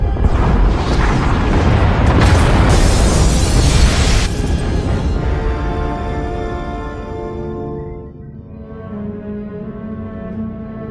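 In the Star Wars: The Old Republic video game, a massive explosion tears through the pod bays, a loud, roaring boom with crackling debris that slowly rumbles and fades into a low, lingering drone.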